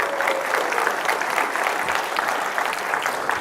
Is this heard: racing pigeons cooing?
no